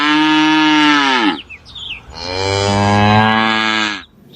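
A cow moos twice, with long drawn-out bellowing calls that are loud and close, separated by a short pause and with no other sounds.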